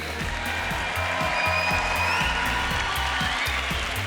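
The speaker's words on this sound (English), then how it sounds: "another round of applause, please, for Marco Bezzecchi" Audience applause at the MotoGP Beats Lights Out Gala in Valencia, 2023, a dense steady patter of many hands clapping together, fairly close and sustained for several seconds.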